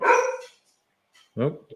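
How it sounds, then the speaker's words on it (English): A dog lets out two loud, close barks separated by a short pause, with a person giving a brief exclamation. "that was a dog"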